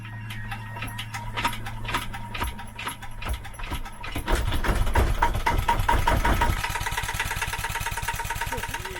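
A Bukh DV10 marine diesel in a boat runs after a hand-crank start. It gives a steady, loud, rapid knocking idle throughout, with clanking and a shift in tone partway through.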